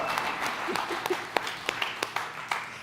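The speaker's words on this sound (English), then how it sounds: "can we just give a big round of applause for Pancho Javier" A church service audience applauds the band, with scattered claps carrying on steadily for a few seconds at moderate loudness.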